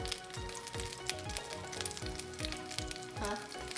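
Salmon fillet frying in a hot pan, a steady dense sizzle with crackling pops, continuous and close, accompanied by a few low clinks and knocks of tongs against the pan.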